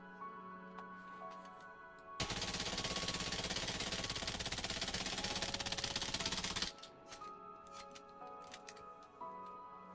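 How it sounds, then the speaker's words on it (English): Rapid automatic gunfire in the space game Elite Dangerous, a dense loud burst of about four and a half seconds breaking in over quieter ship ambience and electronic tones. "Celebratory gunfire."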